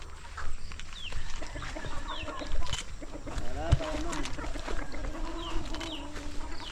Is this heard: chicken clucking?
yes